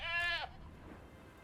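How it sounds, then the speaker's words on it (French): A goat bleats once in the video game The Witcher 3, a short, loud, wavering cry that stops abruptly and leaves a low, quiet background. "La petite chèvre."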